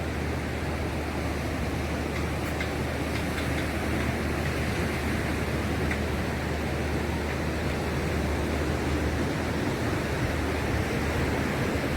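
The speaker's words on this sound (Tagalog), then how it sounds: "tabing dagat" Surf breaks along the shore at Bluewater Beach Resort in Palawan, a dense steady wash of wave noise with wind rumble, unbroken for the whole stretch and with no speech.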